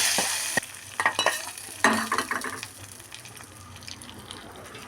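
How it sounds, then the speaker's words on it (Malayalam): A sharp burst of sizzling erupts as hot mustard-seed tempering oil is poured into egg and eggplant theeyal curry, crackling loudly then fading into gentle bubbling, with a few clinks of a utensil. "കടു താളിച്ചിട്ടുണ്ട് ഇനി നമ്മളിതിലേക്ക് ഒഴിക്കുകയാണ് തീയലിലേക്ക്"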